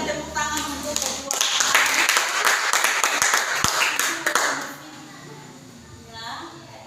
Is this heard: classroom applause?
yes